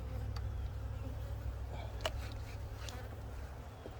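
Honeybees from a first-time keeper's hives give off a faint, steady buzzing hum that continues evenly for a few seconds, with a few fainter insect flickers above it and no talking.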